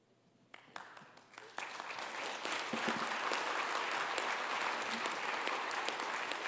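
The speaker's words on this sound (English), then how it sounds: "Can we have one more large round of applause?" Debate audience applause on whether Jesus existed starts as a few scattered claps, then swells into full, sustained clapping from a large crowd that holds steady to the end.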